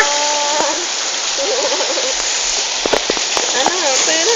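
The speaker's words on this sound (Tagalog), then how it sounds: "Ito nga po ang ulan." Heavy rain pours steadily onto a surface with scattered drip and splash sounds, while voices speak briefly underneath.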